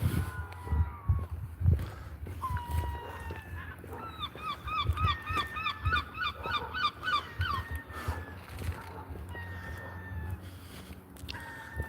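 Birds, likely geese, honk outdoors in a rapid series of repeated calls in the middle stretch, heard over background rumble and ambient noise.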